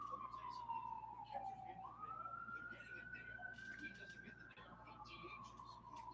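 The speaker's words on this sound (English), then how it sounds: "We have some sirens going on in the background." A wailing emergency siren in the distance, its pitch sliding down then rising and holding, steady and faint beneath a low indoor hum, with someone talking quietly over it.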